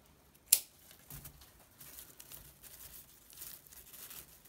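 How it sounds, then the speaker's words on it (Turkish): A single crisp scissors snip through rope yarn while knotting a macramé fringe, close and fairly quiet, followed by faint rustling and handling of the cord with no talk. "Şimdi ipi kesiyorum."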